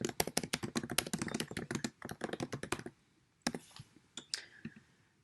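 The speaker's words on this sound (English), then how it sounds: "And I can start typing my message." Rapid typing on a computer keyboard, a dense run of crisp key clicks for about three seconds, then a few scattered taps after a pause.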